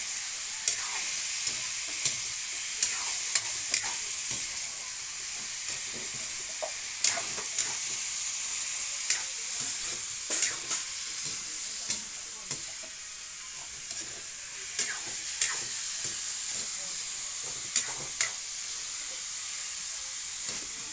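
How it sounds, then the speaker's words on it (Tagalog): Pork adobo sautés in its own rendered fat, giving a steady sizzle with repeated sharp scrapes and clinks as a utensil stirs the pan, and no talk over it. "Gigisahin natin to sa sarili niyang mantika."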